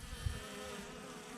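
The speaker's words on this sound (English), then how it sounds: "These are those bees that came out of a tree last year." Honey bees from a colony once taken from a tree hum at their hive, a faint continuous buzz of many insects close by with no voices.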